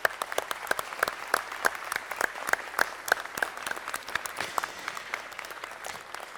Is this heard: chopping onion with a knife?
no